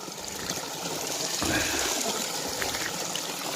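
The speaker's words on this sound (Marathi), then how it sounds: "या झरामध्ये 12 महिने 24 तास पाणी सुरू असतं" Spring water trickles and gurgles steadily at close range from a year-round spring at Nargoli, Dapoli, a soft, continuous splashing flow.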